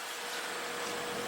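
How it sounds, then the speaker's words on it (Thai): Air conditioning running in a 2013 Toyota Corolla Altis 1.8 TRD, heard as a steady, even broadband whoosh and hum with no breaks, close and moderately quiet. "อันนี้เสียงเครื่องปรับอากาศนี่คับ"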